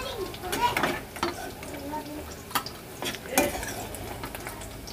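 Cauliflower fries in oil until brown, a soft sizzle punctuated by repeated scraping clatters of a spoon against the pan, with a voice faintly present.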